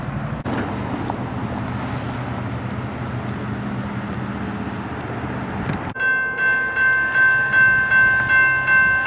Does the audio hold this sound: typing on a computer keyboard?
no